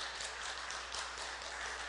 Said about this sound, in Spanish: darle un aplauso al Señor